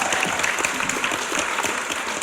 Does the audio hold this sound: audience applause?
yes